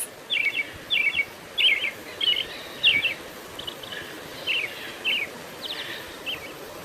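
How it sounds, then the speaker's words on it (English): Thrush song made of clear, repeated high phrases in a steady rhythm, fairly close and bright over a quiet hissy background, with the later phrases softer. "thrush,"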